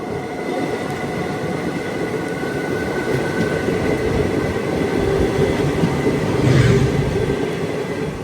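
The Sai Nagar Shirdi–Tirupati Express rolls along steadily on its Guntakal to Tirupati run, a continuous loud rumble of wheels and carriage noise heard from inside the train, swelling briefly near the end, with no talking.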